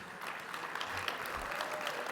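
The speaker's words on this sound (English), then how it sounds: "please, let's give another round of applause for each of our honorees and sponsors who are here tonight" A gala audience gives warm applause for the honorees and sponsors, a dense, steady clapping from a roomful of people that carries on without a break and without talk over it.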